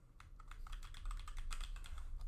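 Quick, soft keystrokes on a computer keyboard as a password is typed, a rapid irregular burst of clicks at close range with no talking.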